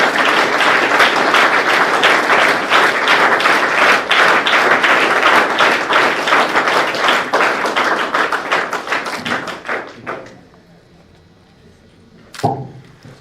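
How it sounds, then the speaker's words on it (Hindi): Loud, dense applause from an NCC Vijay Diwas gathering honoring 1971 war martyrs, sustained for about ten seconds before thinning out and stopping, followed by quiet and a single sharp thump near the end. "तो जोरदार तालियों से उनका स्वागत करें।"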